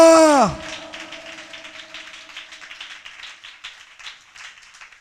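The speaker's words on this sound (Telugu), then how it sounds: "చప్పట్లు కొట్టు గట్టిగా" A church congregation claps in a steady, rhythmic beat that sounds fairly soft and distant, following a brief voiced tone at the start.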